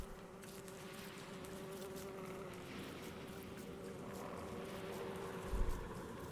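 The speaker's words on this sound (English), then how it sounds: "There's a killer bee out" Killer bees in a video game give off a steady, continuous insect buzz that hums on as an even drone, with a brief low thump near the end.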